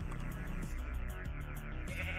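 Sheep bleats from the video game Minecraft sound out alone, a few wavering calls over a low steady background hum.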